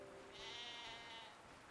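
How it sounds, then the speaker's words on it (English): A goat in a video game gives a single drawn-out bleat of about a second, faint and thin over a constant background hum, with no voices. "Oh, it's a goat."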